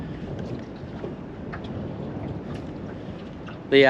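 Wind buffets the microphone in a continuous low rumble by a river, with faint water movement beneath and a sudden louder noise right at the end.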